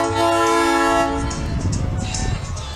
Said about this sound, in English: when I heard that train whistle